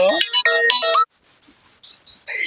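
Phone ringtone for an incoming call, a loud, close electronic melody of quick stepped tones followed by a series of high chirping beeps, with no talking.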